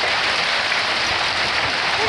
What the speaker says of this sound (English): Look at it raining off the roof over here.